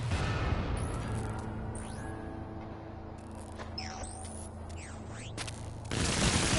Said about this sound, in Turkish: Havai fişekler dostum.